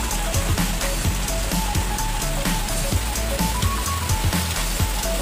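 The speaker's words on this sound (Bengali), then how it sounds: "দেখো বেশ ভালোই জোরে বৃষ্টি পড়ছে" Heavy rain falls outside a home in a steady, loud, dense patter of drops hitting surfaces, continuous throughout with no voices.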